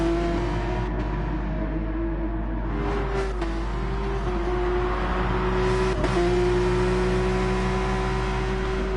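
A race car engine in Gran Turismo Sport at Tsukuba, a steady droning whine that holds and shifts pitch as the car passes, over a constant low hum, with no voices.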